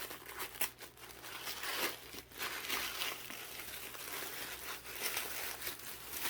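A puffy, taped present package marked fragile is opened, with close, quiet crinkling and tearing of packaging that comes in uneven bursts.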